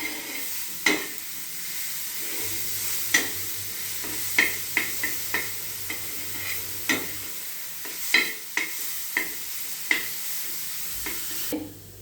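Ground green chili and ridge gourd chutney paste goes into sizzling sesame seeds in a pan and is stirred, with a soft steady sizzle under repeated sharp spoon clinks and knocks against the pan, close and fairly quiet.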